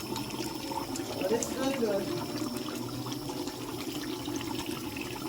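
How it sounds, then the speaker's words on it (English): Water pouring into a pot of simmering Jamaican curry goat foot, a soft running splash under a voice as he talks, fairly faint and steady. "I'm gonna add water."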